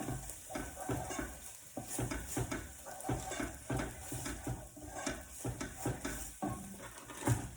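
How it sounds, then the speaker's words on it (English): Lamb pieces stirred in a hot pan while making Thai green curry, with a steady sizzle of frying meat beneath repeated scraping strokes of a utensil against the pan, close and fairly loud. "Keep stirring your pan"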